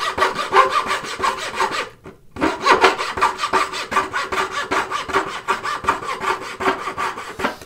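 A handmade turning saw cuts through wood in quick, rhythmic rasping strokes, close and clear, with one brief pause before the steady back-and-forth sawing resumes.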